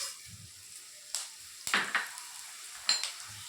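Coriander seeds crackle and sizzle in a little oil in a pan, making a low steady hiss with a few sharper pops and spits around the middle and near the end.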